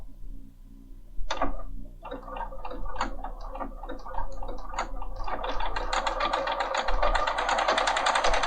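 A Bernina 5 Series sewing machine stitches a row of blanket stitch for applique, its needle ticking in a quick, regular rhythm that speeds up into a continuous, close whirring run.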